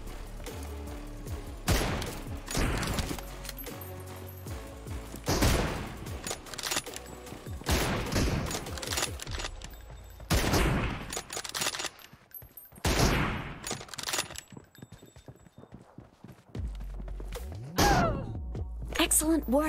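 M24 sniper rifle shots ring out in a 1v1 mobile shooter match, a string of heavy, booming reports spaced irregularly a couple of seconds apart, with a voice talking at times between them.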